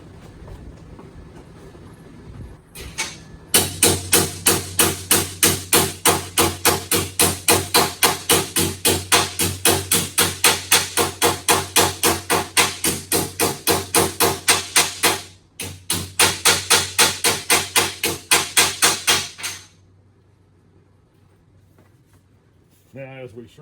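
A hammer taps a metal floor and pillar panel on a 1947 Pontiac, producing a long run of fast, evenly spaced metallic blows. The blows pause briefly once, then stop, leaving quiet shop ambience.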